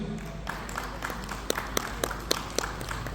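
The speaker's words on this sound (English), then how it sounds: "Let us clap for Miss Matthews." Scattered audience claps at a talk on education reform, a handful of sharp, spaced hand claps over a quiet room with low hum, moderately close and fairly faint.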